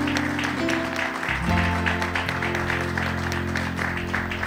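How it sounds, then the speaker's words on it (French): Loud audience applause and cheering at a French-speaking Christian gathering, dense continuous clapping over a low sustained musical tone that holds steadily throughout. "Nous vous accueillons avec ces acclamations"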